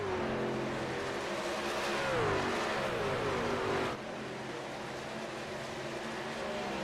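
Engines of NASCAR trucks in the iRacing sim at Charlotte drone loud and steady, with rising and falling pitch as trucks race in a pack, the tone dropping slightly partway through.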